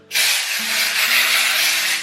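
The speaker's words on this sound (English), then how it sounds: "Spray the roots." A steady hissing spray of aerosol dry shampoo onto hair roots lasting nearly two seconds, close and fairly loud, with a faint low hum underneath.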